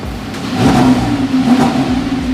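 A Lamborghini sports car engine revs hard, a loud sustained roar that swells and eases slightly, close to the listener.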